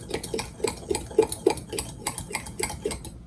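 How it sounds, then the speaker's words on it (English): Fork stirring chocolate ganache in a bowl, a run of light clinking scrapes in a steady rhythm, close and fairly quiet with no talking. "I'm just gonna stir it up with a fork."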